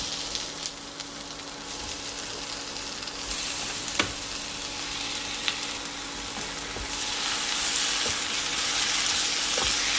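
Chicken frying with onions and spices in a pan, a loud continuous sizzle close by with occasional clicks and scrapes of stirring, no talking.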